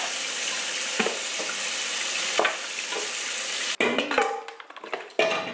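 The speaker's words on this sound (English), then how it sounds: "I'm just gonna rinse it out." Tap water pours steadily into a kitchen sink for a few seconds, then cuts off, followed by clattering and splashes as something is rinsed.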